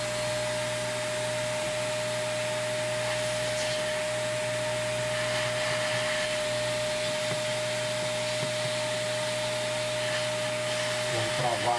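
A vacuum cleaner draws air through the fan of a Dell Vostro P90F laptop during cleaning, a loud, steady, continuous droning whine with a constant tonal hum throughout.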